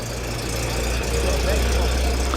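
An MGB GT idles at a breakfast car meet, a steady low engine rumble with even vibration, close and constant, with crowd chatter faintly mixed in.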